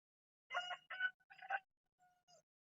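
A rooster crowing from atop a hen house in a backyard garden, one clear cock-a-doodle-doo in several syllables followed by a faint trailing call, fairly close and alone in quiet surroundings.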